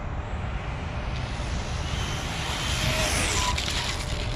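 An XO-1 RC car with an 18-tooth pinion drives and slides, producing a steady, loud rushing whine of motor and tires that swells slightly near the end, with no voices.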